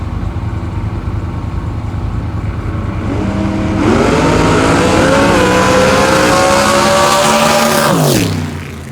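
Drag race finals with a big tire car: a deep engine idles and rumbles, then launches into a loud, sustained roar of acceleration that rises in pitch before cutting off abruptly near the end.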